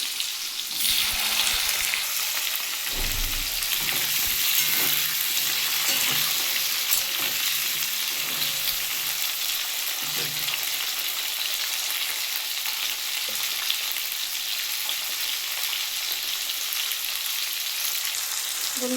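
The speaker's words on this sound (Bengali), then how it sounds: "আমি এবার আলু আর টমেটো দিয়ে ভালো করে ভেজে নেব" Potatoes and tomatoes frying in a pan for a vegetarian dish, a steady close sizzle throughout with a few soft stirring knocks early on, no voices.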